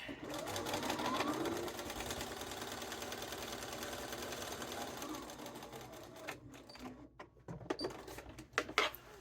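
A sewing machine stitches a garment vent with a fast, steady motor hum and needle chatter that fades out into scattered clicks and handling noises as the seam finishes.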